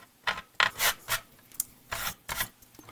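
Paint is scraped and chipped off an Airfix B-17 plastic model in a run of short, bright rasping strokes, about seven quick scratches close up with brief pauses between them.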